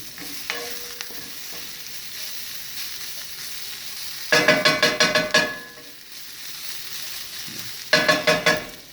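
Chicken of the woods mushroom and bok choy sizzle steadily in a hot pan, broken by two bursts of rapid scraping and clattering as the food is stirred and tossed, close and moderately loud.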